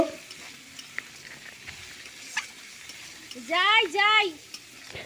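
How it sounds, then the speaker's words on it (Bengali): Crab cooks in a pan with ground coriander, cumin and dried chilli powder while it is stirred. Soft intermittent scrapes and clicks sit over a faint sizzle, with a short squeaky tone partway through. "দিয়ে ভালো করে নেড়ে চেড়ে নিয়ে আবার মশলাটাকে কষিয়ে নেব"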